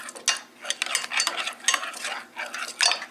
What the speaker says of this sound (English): And the vanilla. Give that a good stir.